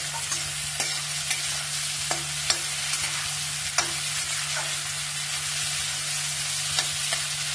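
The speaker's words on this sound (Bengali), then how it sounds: "এর মধ্যে একটু নুন দিয়ে দিলাম। আর আমি একটু লাল করে ভেজে নেব।" Spices frying with salt in a pan until reddish make a constant loud sizzle, broken by occasional light clicks of a spatula stirring, close and continuous.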